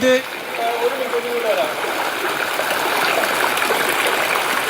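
Floodwater flows in during monsoon rain on a waterlogged Kerala road, a constant rushing, gushing wash that stays loud and steady throughout, with a brief louder splash at the very start.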